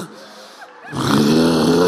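A voice imitates snoring during a church sermon, giving a loud, rasping, drawn-out snore that follows a quieter breathy lead-in.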